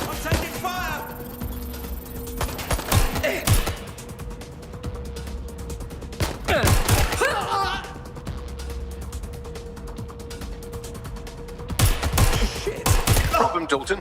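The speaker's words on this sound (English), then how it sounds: "I'm taking fire!" Bursts of gunfire ring out in the Watch Dogs Legion video game, three loud volleys spaced several seconds apart over a steady low hum, with a voice calling out between shots.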